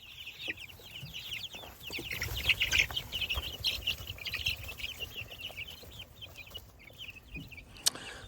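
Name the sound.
chicks clucking while being fed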